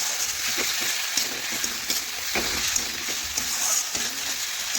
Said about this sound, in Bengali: এখন আলুও ভালোভাবে মশলার সাথে কষিয়ে নেব।